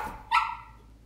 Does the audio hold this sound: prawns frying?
no